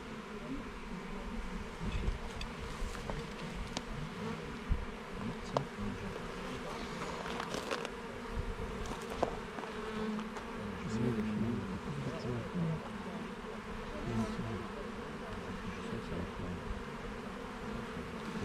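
A dense, steady drone of many honey bees buzzing close by at an open hive, continuous throughout with small rustles and knocks over the hum.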